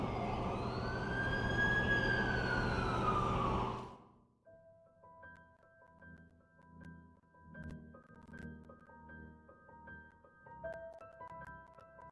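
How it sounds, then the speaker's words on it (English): A wailing ambulance siren in a Spider-Man style superhero video game sounds loud and close for about four seconds, then cuts off abruptly, leaving quieter background game music and tones. "That's the ambulance I called."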